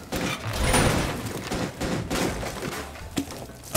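Tachanka's mounted machine gun in Rainbow Six Siege fires in dense sustained bursts, loud and continuous for most of the stretch, with a brief lull and a sharp thump near the end.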